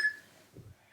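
A workout interval timer gives two short, bright electronic beeps, one at the start and one at the end, with a brief soft thud between them.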